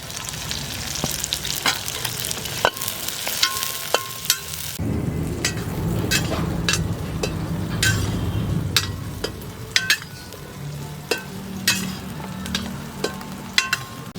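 Onions and ginger-garlic paste fry in a pan for a duck curry, a steady close sizzle with a louder burst of frying partway through and scattered clinks and scrapes of stirring.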